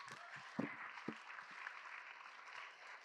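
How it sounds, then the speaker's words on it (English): Quiet, scattered clapping from a small group at a youth leadership event, a few sharper claps standing out early before the sound settles into a soft, thin patter. "Let's give him a round of applause."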